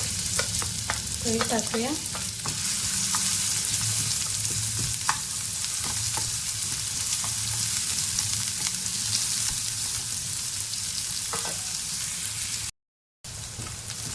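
Chopped onion sizzling steadily as it fries in a pan for a Konkani vegetable dish, with intermittent scraping and stirring strokes; someone speaks briefly over the continuous frying.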